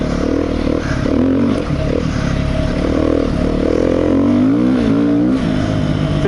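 Beta 390RR dirt bike, a 2017 model, riding through soft sand, its engine droning loud and steady throughout with shifting pitch as the throttle rises and falls, heard up close from the rider's position.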